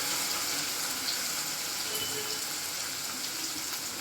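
Colocasia leaves sautéing in a pan for a Maharashtrian aloo fadfade dish, a steady close sizzle and hiss running unbroken and fairly loud throughout with no voices.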